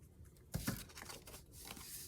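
Scissors cutting a sheet of 12 x 12 paper for a craft pocket: a short crisp snip and crinkling rustle, close and fairly quiet, with no speech.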